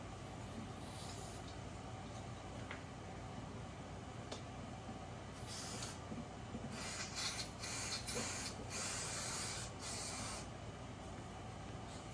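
Several short bursts of aerosol electrical cleaner sprayed onto wiring during a 4.6 engine swap into a 1969 Ford F100, hissing over a steady low hum in a garage.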